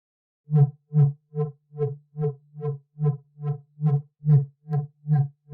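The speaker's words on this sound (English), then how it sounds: "Apply some chorus, phaser, or flanger." Synth notes treated with chorus, phaser or flanger modulation, built for a beginner dubstep track: a steady run of about a dozen evenly spaced, buzzy tones, loud and close, with no voices.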